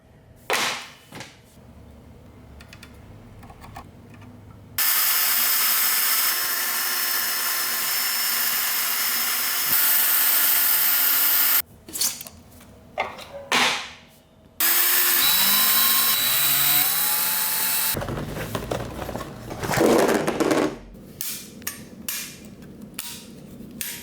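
Several loud bursts of a power drill whirring into a computer desk, separated by pauses with scattered knocks and clatter.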